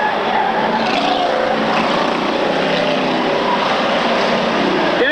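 Race cars battling on the last lap of a 1995 race, a continuous loud engine roar of several cars together filling the whole stretch, with no voices.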